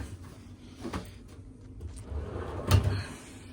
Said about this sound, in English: I pull open this drawer and I grab a gown out